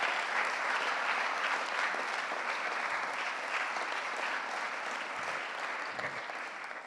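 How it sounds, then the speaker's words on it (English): Sustained applause from a large crowd at a forum's closing session, steady dense clapping throughout that fades slightly toward the end. "giving a huge round of applause to all of our speakers"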